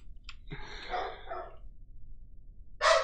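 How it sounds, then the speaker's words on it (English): Dogs bark in the background at a distance, a few separate yelps and barks with quiet gaps between them, faint but clear with nothing talking over them. "Man, I don't know what the dogs are going so crazy at."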